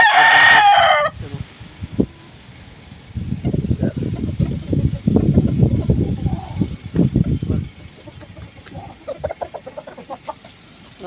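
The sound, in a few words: rooster crowing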